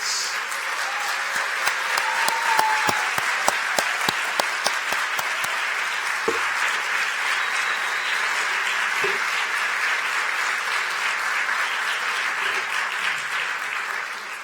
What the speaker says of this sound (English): Now, can I have a big rocket-style round of applause for all of our